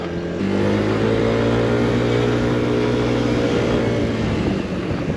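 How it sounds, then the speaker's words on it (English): A Yamaha XMax 125 maxi scooter accelerates at full throttle, its engine drone loud and steady throughout with a rising tone, heard from on board with wind noise. "when you open it up a little bit, you give it full throttle, it just picks up speed nicely"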